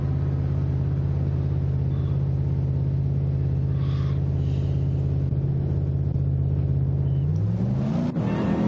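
An Audi R8 GT3 race car's engine drones steadily on the Sardegna track, a loud sustained note that dips near the end as the car slows into turn one.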